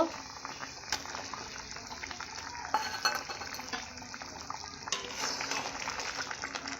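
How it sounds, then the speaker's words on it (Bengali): Thin rohu fish curry with potatoes simmering in a pot, soft bubbling and liquid gurgles with a few faint clinks, steady and close, no speech. "এইভাবে কিছুক্ষণের জন্য ফোটাবো"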